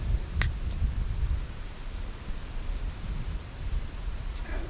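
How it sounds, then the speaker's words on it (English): Steady broadband wind blowing across an open lakeside campsite in the afternoon, a continuous rushing hiss with no gusts standing out and no voices. "So it's a bit of a windy afternoon."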